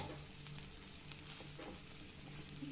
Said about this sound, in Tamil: பிரெட்டையும் ஃப்ரை பண்ணி எடுத்துடலாம்